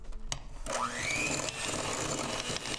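An electric mixer beats soy margarine and vanilla together in a bowl, starting after a couple of clicks and then whirring steadily, its motor pitch rising then holding.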